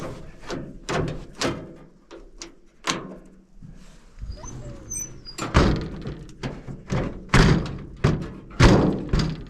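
Door of a 1947 Chevrolet truck being shut repeatedly, a series of heavy metal thunks and slams in close succession with a mechanical latch rattle between them and no talking.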